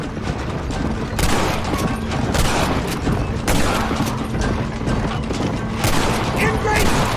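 Gunfire rings out in a Red Dead Redemption battle, with loud repeated shots and booming blasts over a dense, noisy battlefield din. Voices shout in the game.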